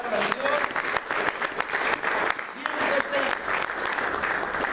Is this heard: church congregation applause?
yes